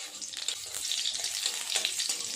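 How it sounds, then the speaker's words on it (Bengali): Nigella seeds fry in hot oil as a tempering for a hilsa fish curry, a close, continuous crackling sizzle with dense tiny pops and a slight unevenness from stirring, with no voices. "কালো জিরে ফোড়ন দিয়ে আমি ঝোলটা সাঁতলে নেব।"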